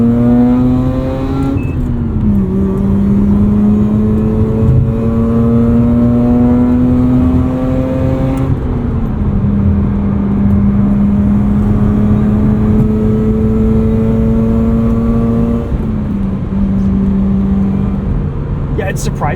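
A 2009 Mazda RX-8 rotary engine car on track tires, heard from inside at speed, gives a steady, loud drone whose pitch dips slightly with gear changes and holds through the whole stretch.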